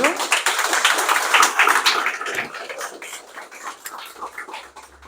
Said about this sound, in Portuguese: uma salva de palmas então para o Júlio